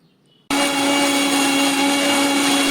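After a moment of near silence, a blender kicks on abruptly and runs loud and steady with a high motor whine, grinding red chutney with water continuously.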